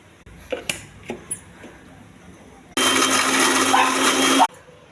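Kitchen blender grinding cumin, onion and tomato into a curry paste, a loud steady whir running about two seconds after a few light knocks and clicks.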